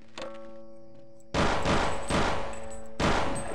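Gunfire in the video game Half-Life: two loud, sustained bursts of rapid shots, each lasting under a second or so, over a quiet humming game background.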